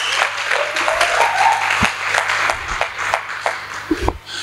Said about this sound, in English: And can we give them a wonderful round of applause?